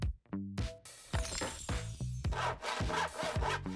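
A nail file rasps in quick, repeated strokes across the plastic case of a toy calculator, close and fairly loud, with brief tonal chimes between strokes.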